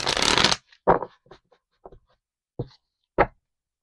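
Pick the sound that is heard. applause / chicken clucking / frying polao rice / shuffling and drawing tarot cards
shuffling and drawing tarot cards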